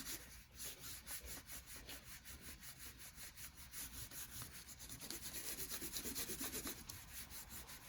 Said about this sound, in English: So when you're rubbing, you're going to put your crayon sideways, not like you are drawing something.